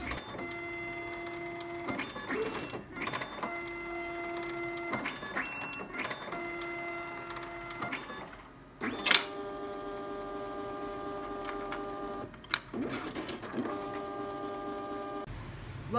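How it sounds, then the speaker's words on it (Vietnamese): A Zebra ZXP Series 3 plastic card printer runs through a print cycle, with repeated whirring motor passes broken by short pauses and clicks, close and steady for the whole stretch. "tiếp theo mình sẽ tiến hành in thẻ và kiểm tra chất lượng của máy in cho các bạn xem"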